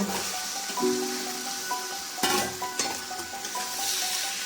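Boiled peas and potatoes are stirred and fried in spice masala for ghugni, with a continuous close sizzle and scraping broken by a few louder stirring strokes over soft melodic tones.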